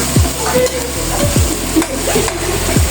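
Onions frying in a pan for menudo, a constant loud sizzle with several scraping stirs of a utensil against the pan at irregular intervals, close by and without talk.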